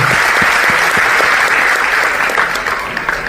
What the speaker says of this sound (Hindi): एक बार तालियां इनके लिए, साथ के लिए।